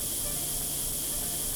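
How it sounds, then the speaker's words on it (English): Steady hissing spray from a paint gun priming a WWII tank in Tank Mechanic Simulator, a continuous bright airy rush at even loudness with no pauses. "It just sort of ignores them as we spray everything down."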